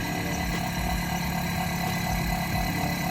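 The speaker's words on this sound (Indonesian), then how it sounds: "bisa dilihat juga motor AC-nya sudah menyala ya" An AC motor runs in a smart motor drive simulator, giving a steady, loud, engine-like hum with a low rumble that holds unchanged throughout.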